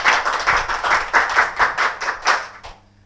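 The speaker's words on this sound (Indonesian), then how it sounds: "Boleh kita berikan tepuk tangan buat semuanya." An audience at a talk show gives a round of rhythmic clapping, close and fairly loud, pulsing in even beats for under three seconds before fading out.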